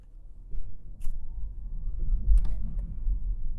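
A Renault Megane E-Tech electric car gives off a faint, low subway-like hum while driving, steady and quiet with a rising whine in the background.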